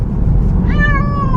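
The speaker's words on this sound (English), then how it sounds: "She's been quiet and then she's been meowing" A female cat meows in a long drawn-out call over steady low road rumble inside a moving car on the way to the vet for spay surgery.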